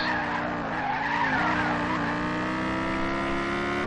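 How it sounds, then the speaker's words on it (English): A race car in Gran Turismo 6, on the Nürburgring during an online VLN race, drones steadily with a loud, continuous engine note and tire squeal throughout, without any talk. "I'll just leave you to enjoy the engine noise."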